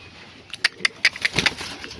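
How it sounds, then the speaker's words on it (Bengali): Pigeons held for sale give a few short, soft calls and flutters in quick succession, sounding close and fairly clear, with no voices present. "পুরো অ্যাক্টিভ আছে পায়রা"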